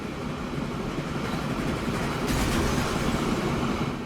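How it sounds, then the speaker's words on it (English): Trains rolling along tracks in the Transport Fever 2 simulation: a steady, dense rumble of wheels and carriages with faint clickety-clack, growing slightly louder and brighter midway, with no voices. "Trains get kind of loud, don't they?"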